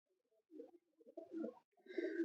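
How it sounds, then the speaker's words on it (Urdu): A Teddy pigeon gives soft, close cooing in three short bursts with brief pauses between them, quiet and alone. "جی یہ ہمارا ٹیڈی کبوتر ہے جی"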